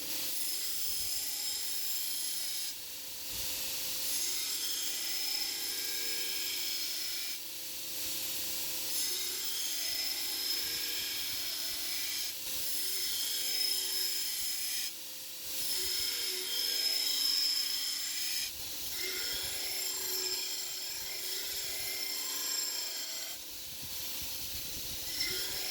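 A steady, high-pitched drill whine runs throughout with brief dips, a continuous close grinding hiss as the bit bores into leaf spring steel.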